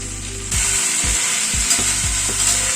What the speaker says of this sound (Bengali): হালকা করে আদাটাকে একটু ভেজে নেব।